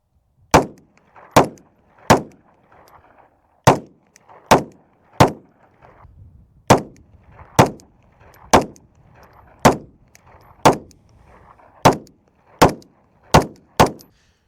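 A CZ 75 P-01 pistol fires a 15-round magazine outdoors, with sharp loud shots spaced about a second apart in an uneven rhythm, each followed by a brief echo, the last few coming quicker.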